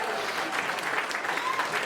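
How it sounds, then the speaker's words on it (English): Comedy club crowd clapping for a newly married couple during a live stand-up set, a dense, steady wash of applause close by with no talk over it. "Give it a round of applause for them one more time"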